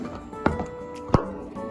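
A chocolate bar snaps into smaller pieces in two sharp, close cracks about two-thirds of a second apart, with softer handling noise around them.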